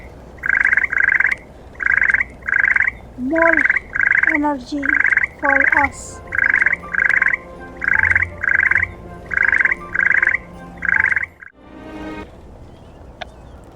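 Chocolate frogs croak in Harry Potter: Hogwarts Mystery, a steady run of about fifteen short, evenly spaced croaks; game chimes sound midway, and a voice speaks briefly near the end.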